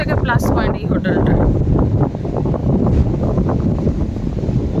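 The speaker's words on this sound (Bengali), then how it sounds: "হাওয়া দেখছো আর সমুদ্রের ঢেউ দেখো।" Strong wind by the sea at Mandarmani roars and buffets the microphone in a continuous low rumble, with a brief voice near the start.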